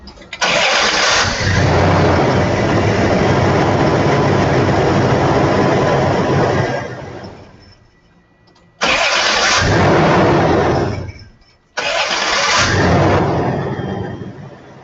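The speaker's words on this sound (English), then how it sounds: "let's go ahead and start this thing and see how it sounds" Car starter motor cranks and the engine fires up in a loud, close burst lasting about seven seconds, then two more start-ups follow after short pauses, each running steadily before cutting off.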